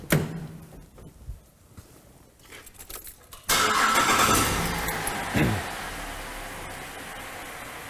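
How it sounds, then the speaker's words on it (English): A car engine cranks and catches at about three and a half seconds, then settles into a steady idle, after quieter handling noises. The car is being checked for a narrow band oxygen sensor performing poorly. "I'll start the car and we'll get some readings"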